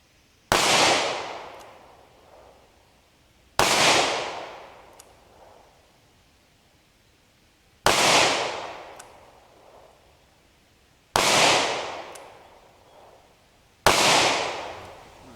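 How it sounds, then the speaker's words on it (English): Five .38 caliber handgun shots with copper plated bullets fired at a pizza box 25 yards away, each a sharp loud crack with a decaying outdoor echo, spaced several seconds apart, with no voices. "I'm going to launch some rounds at that pizza box at 25 yards."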